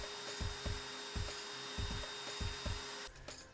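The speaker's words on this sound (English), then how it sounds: "I prefer to make a cove cut on the table saw once again" A table saw makes a cove cut in wood: a steady, close whirring drone with rhythmic low thumps as the board is fed across the blade.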